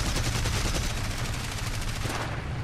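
Cannon fire from a Bf 109 E-3 fighter in War Thunder, a continuous rapid stream of shots hammering out under the steady engine roar.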